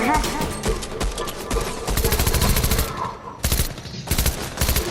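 Rapid gunfire bursts from a Fortnite match, loud and dense with several separate volleys and short gaps between them, while players talk over the action.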